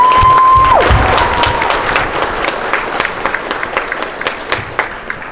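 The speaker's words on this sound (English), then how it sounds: "So if I give one more round of applause for all the donations." Crowd applause at an outdoor school cardboard boat race event, dense clapping close and loud, then thinning out into scattered individual claps by the end, with a brief tone early on.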